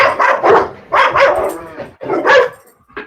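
Several dogs bark close by in a home, giving a quick series of sharp yaps and barks in uneven clusters that fill the short stretch.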